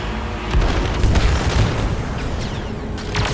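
In Star Wars Battlefront 2, a cooling cell blows up, with a heavy booming explosion and several rumbling secondary blasts and debris crackles, loud and close, without talk.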